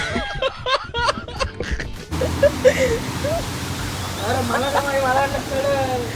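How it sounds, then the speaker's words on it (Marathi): Heavy rain pouring during a motorbike ride, with riders sheltering under a tree: a constant hiss of rainfall beneath loud talk and laughter from several people. "काय पाऊस जोरात लागलाय बघू शकता"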